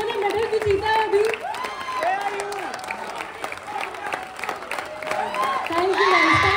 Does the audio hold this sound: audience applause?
yes